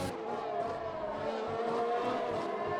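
Race cars sweep through a turn on a circuit, a continuous distant engine whine with tonal drones and faint tire noise, no speech.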